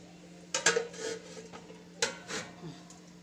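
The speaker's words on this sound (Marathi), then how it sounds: "आता हे ढवळायचं आपण छानपणे आणि झाकून ठेवायचं आहे।" A spoon scrapes and clinks in a metal pot as food is stirred, followed by a lid knock and a few softer clatters, all close and fairly quiet.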